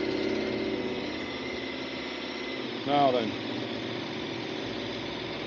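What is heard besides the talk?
KTM 1290 Super Adventure S motorcycle engine starting and idling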